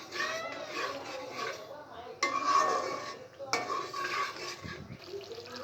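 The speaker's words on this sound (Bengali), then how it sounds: "এখন আমি ভালো করে নেড়ে নিব। এটা নেড়ে ভালো করে কষিয়ে নিব।" Chicken roast masala being stirred and fried in a pan, with repeated scraping and clanking of a spoon against metal in bursts and a faint sizzle underneath.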